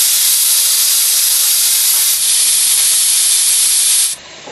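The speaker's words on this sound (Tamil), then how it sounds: "ரெண்டு விசில் வந்துருச்சுங்க." A pressure cooker cooking sambar on a medium flame vents steam in a loud, steady whistling hiss, briefly dipping midway, then dropping sharply to a softer hiss at the end.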